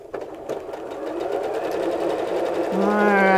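Sewing machine stitching quilt pieces, a rapid close mechanical chatter running steadily and growing slightly louder throughout, with a higher whirring tone near the end.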